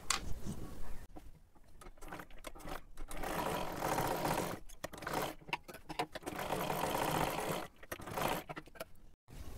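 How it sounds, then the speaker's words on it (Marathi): Close, loud sewing machine double-stitching kurti fabric in several bursts, the motor whirring in runs broken by quick stops as the cloth is repositioned. "इथे सुद्धा आपल्याला डबल शिलाई मारून घ्यायची आहे"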